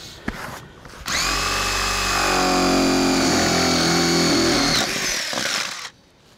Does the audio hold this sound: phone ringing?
no